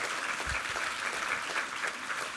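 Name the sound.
audience applause in church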